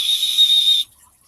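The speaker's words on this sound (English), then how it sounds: "You blew your little whistle." A referee's whistle gives one loud, steady, shrill blast lasting under a second, then cuts off into near silence.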